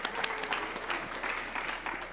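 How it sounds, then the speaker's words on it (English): Brief audience applause at an education talk, a dense patter of clapping hands from a nearby crowd, steady throughout with no pause. "Come on, clap for her."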